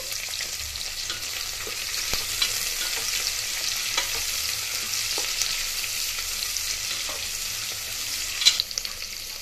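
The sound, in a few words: sliced onions and green chilies frying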